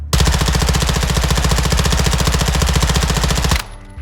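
Bas-P submachine gun fires in Modern Warfare 2, a loud, sustained rapid burst of rounds lasting over three seconds before cutting off abruptly into quiet.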